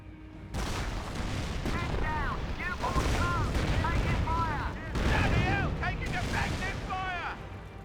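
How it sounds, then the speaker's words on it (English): An artillery barrage in Company of Heroes rumbles on continuously with dense booms and gunfire, while whistling shells arc down repeatedly. A voice talks over the battle throughout. "Some sort of artillery, just decoy barrage."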